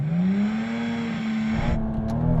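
Toyota Supra Mk4 TRD engine bogging on a drag-strip launch, a loud sustained low drone that rises only slowly in pitch, with a brief dip and stumble near the end before picking back up.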